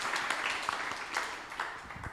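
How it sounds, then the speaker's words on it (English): Faint, sparse clapping from an audience at a regional stakeholders' consultation meeting on a draft national start-up policy, uneven and fairly distant across two seconds. "Let's have a clap for the team that has submitted today."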